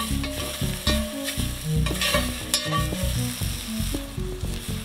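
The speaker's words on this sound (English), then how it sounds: "the veggies are cooking and they're mostly done. So I'm gonna add the veggie sausage here" Veggies and veggie sausage cooking in a pot over a campfire at a state beach campsite, with a steady sizzle and frequent scraping, clanking stirs against the pot throughout, near and fairly loud, with no talking.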